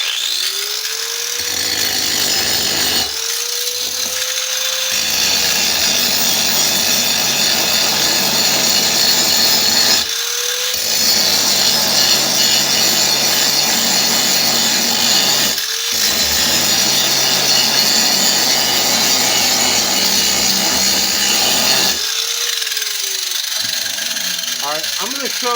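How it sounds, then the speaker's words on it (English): Angle grinder grinding a steel pry bar or alligator wrench, loud sustained grinding in several long passes, each starting with the motor spinning up and broken by brief pauses. "So I think I'm going to be forced to grind a little."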